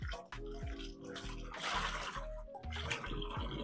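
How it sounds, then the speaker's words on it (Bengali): Ripe mangoes are rinsed under running water for a Bengali fried mango-ball recipe, with a steady splashing gush broken by short clunks and knocks of fruit against the bowl, close and fairly quiet. "আমগুলোকে আমি ভালো করে ধুয়ে নিচ্ছি"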